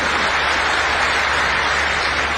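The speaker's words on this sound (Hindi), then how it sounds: "हिंदुस्तान में ताली बजा के इसका स्वागत करो, अभिनंदन करो" Dense, steady applause from a crowd at a public event in Nasrullaganj, Sehore, welcoming a girl who has won medals in a competition; continuous clapping at an even level with no talk over it.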